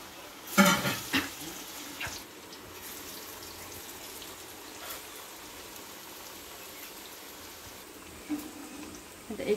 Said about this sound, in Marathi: मस्त असे खरपूस रंगावर तळून घ्यायचे एक एक करून सर्व वडे